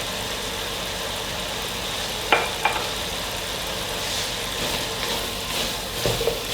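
Carrot halwa being stirred in a pan with nuts, coconut and pistachios: a soft, steady sizzle and scraping, with a couple of sharp spoon clacks against the pan and more stirring scrapes toward the end.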